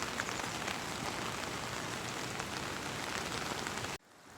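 Heavy rain pours down in a steady, dense hiss of drops hitting the ground, close and constant, then drops away abruptly near the end.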